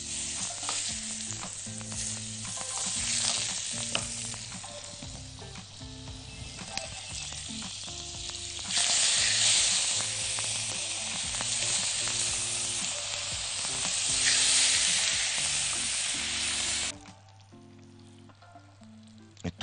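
Butter and oil sizzle steadily in a hot pan, a loud continuous frying hiss with stirring scrapes throughout, ending with a quieter stretch.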